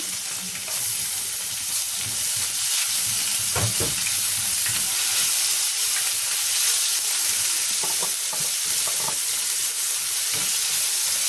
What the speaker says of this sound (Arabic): ابدا بقى انزل في نفس الطاسه بمعلقه ثوم بالشكل ده كده